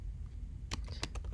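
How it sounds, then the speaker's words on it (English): Quiet keystrokes tap on a computer keyboard while an invoice number is entered, a brief burst of clicks following a near-silent pause. "let's type the invoice number in"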